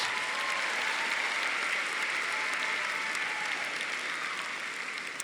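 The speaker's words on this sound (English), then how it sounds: "So give a round of applause to your friends." A large crowd applauds at a university graduation ceremony, a dense, continuous roar of clapping that stays even and full, then eases slightly at the close.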